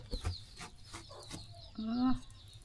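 A chicken clucks in short, soft bursts, ending with a longer drawn-out call, fairly close with some light background noise.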